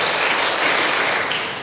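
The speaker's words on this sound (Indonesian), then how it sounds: "Berikan tepuk tangan bagi Tuhan." A church congregation breaks into loud, sustained applause, a dense wash of clapping filling the room evenly throughout.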